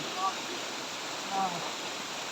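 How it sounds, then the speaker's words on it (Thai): Continuous rushing of a scenic waterfall, a steady wash of falling water close by, with two brief faint squeaky tones breaking through. "นี่ น้ำตกนะทุกคนเป็นน้ำตกที่สวยมากนะทุกคนนะนี่"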